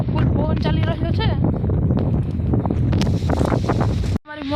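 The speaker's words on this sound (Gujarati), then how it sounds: "ફૂલ પવન ચાલી રહ્યો છે" Strong wind gusts across an open village farm field planted with urad (black gram), a steady low buffeting rumble on the microphone that runs beneath several people talking close by, then cuts out abruptly near the end.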